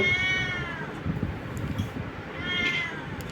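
A sickly, hungry house cat meows twice, one drawn-out cry at the start and another near the end, close and fairly loud, with low kitchen noise between.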